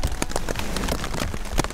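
Rain falls on a mountain camp in Wyoming's Wind River Range, a steady close patter with scattered louder drops striking a surface throughout, with no voices.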